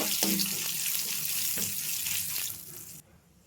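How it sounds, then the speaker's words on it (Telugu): Curry leaves, dried red chilies and asafoetida crackle and sizzle steadily in hot oil with a few soft stirring clinks, close by, before the sound cuts off abruptly near the end. "ఒక రెమ్మ కరివేపాకు, ఒక 2 ఎండుమిర్చి, ఒక పావు టీ స్పూన్ అంతా ఇంగువ వేసి బాగా కలపండి"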